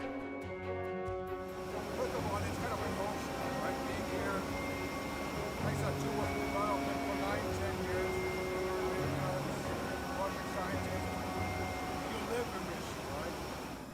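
A steady, dense engine roar fills the background throughout while a person talks over it, the drone inside a plane flying 1,500 feet up.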